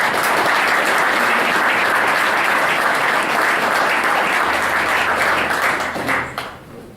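An audience applauds to welcome architect Tod Williams at an AIA Wyoming fall presentation, a dense, steady wash of clapping that holds evenly for several seconds before thinning and fading out near the end.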